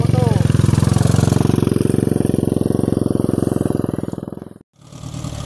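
A motorcycle engine runs at a steady, close putter on a village back road, then cuts out briefly before picking up again.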